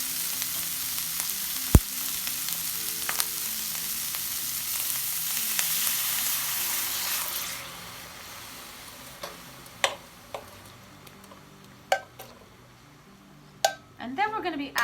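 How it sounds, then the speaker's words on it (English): Coconut milk poured into chicken sizzling in a pan: a strong frying hiss fills the first half, then drops to a softer simmer broken by sharp clinks of utensils against the pan. "so we're going to add in our coconut milk."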